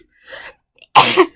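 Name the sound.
sneeze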